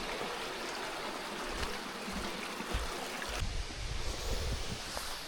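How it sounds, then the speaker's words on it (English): Steady broadband rush of a stream flowing around both sides of a large rock, with waterfalls nearby on a Red River Gorge hiking trail in Kentucky; continuous, fairly close water noise that swells a little in the low end partway through. "I can hear the waterfalls"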